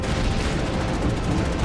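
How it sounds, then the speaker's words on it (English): Explosions and gunfire in the Assassin's Creed Chronicles Russia video game, a dense, continuous rumble of blasts and shots that stays loud and unbroken, with no voices over it. "Fancy explosions!"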